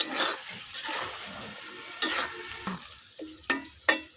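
Small chopped chicken livers frying in a spiced masala in a pan, with a steady sizzle broken by several sharp spoon scrapes and clinks against the pan, close and without talk.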